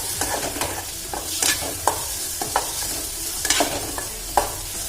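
Onions and tomato fry and sizzle in a pan, with steady hissing broken by repeated scraping strokes of a spoon stirring the mixture, close and alone with no talk.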